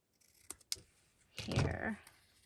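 Scissors snip through junk-mail paper for an ephemera holder: a few sharp clicks at first, then a longer rustling cut close by, with no talking.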